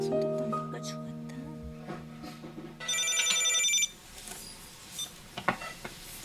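An unanswered telephone rings indoors in a steady run of repeated electronic tones, then a brighter trilling ring, before giving way to faint rustling and household noises.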